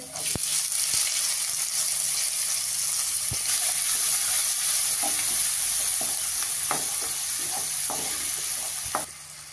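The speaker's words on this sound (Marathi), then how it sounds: "कांदा घालतेय." Chopped onion hitting browned garlic in a hot pan for a garlicky fenugreek dhaba-style dish, a loud steady sizzle held close for nine seconds with occasional stirring scrapes, no talking, cutting off abruptly near the end.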